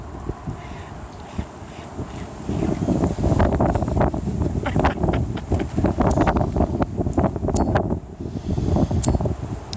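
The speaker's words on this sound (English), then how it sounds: "Bloody wind is working against me." Outdoor wind gusts and buffets the microphone in uneven bursts, rising stronger after the first couple of seconds, with rustling and crackling bits layered over the steady blustery rumble.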